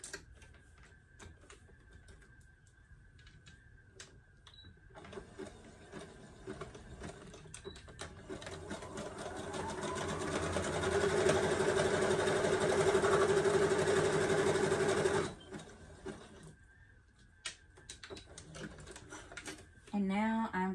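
A sewing machine stitches down the side seams of a homemade crop top, its steady mechanical whir running loud and continuous for several seconds at close range, with quieter handling noises before and after.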